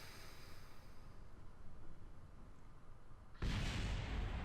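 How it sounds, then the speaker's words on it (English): A satellite blowing up in Kerbal Space Program, a faint low rumble that suddenly bursts into a louder crackling blast near the end. "Well, that was a satellite that blew up."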